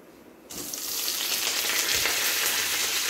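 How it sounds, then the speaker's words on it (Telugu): Loud, steady sizzling of onions, green chillies and curry leaves dropped into hot oil, starting abruptly after a brief quiet moment and continuing as a dense crackling hiss. "ఇప్పుడు మనం ఫస్ట్ ఉల్లిపాయలు, పచ్చిమిర్చి, కరివేపాకు వేసేద్దాం"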